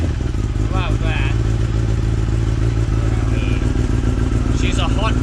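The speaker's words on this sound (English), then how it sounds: "She's a hot motorcycle." A motorcycle engine runs loud and close with a rough, pulsing low rumble and snappy revs, while voices talk over it now and then.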